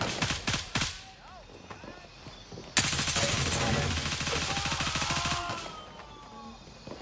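A full magazine emptied in a video game: a dense, sustained burst of rapid automatic fire lasting a few seconds, preceded by scattered shots and followed by quieter game sounds, with a voice talking at times.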